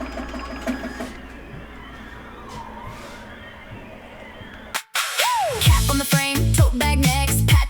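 An embroidery machine stitches a digitized font in a rhythmic, whirring pattern for several seconds before it stops abruptly and loud music takes over.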